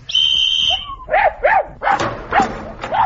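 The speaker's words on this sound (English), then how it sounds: "Have you got a strong enough leash on that dog, Walker?" A tracking dog on a leash barks about five times in a quick, uneven series, loud and close, after a brief high tonal sound at the start.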